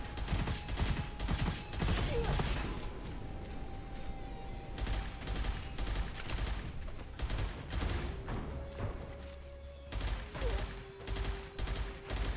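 Rapid bursts of video game gunfire and sniper shots crackle through the clip, fairly faint and repeated in clusters with mechanical clicks between them.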